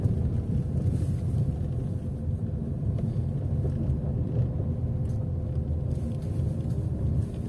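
A car drives along a residential street, giving a steady low rumble of engine and road noise with a little wind buffeting, and no talking.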